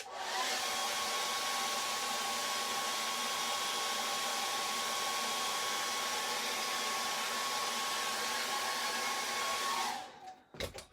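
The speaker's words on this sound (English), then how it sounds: "Use a hairdryer if you need to." A hair dryer blows steadily at close range with a loud, even whirring rush, then switches off near the end.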